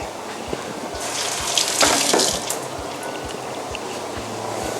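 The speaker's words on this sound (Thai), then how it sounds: "ทุกอย่างล้างน้ำนิดนึงนะครับ" Vegetables for stir-fried bean sprouts rinsed under a running kitchen tap, a steady rush of water splashing into a sink, with repeated soft knocks beneath and a brief louder gush midway.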